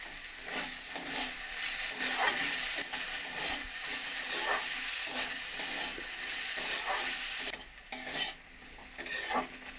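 Half-fried potatoes and a green chili sizzling in a pan, a dense continuous hiss with rhythmic scraping of a spatula and light utensil clatter throughout.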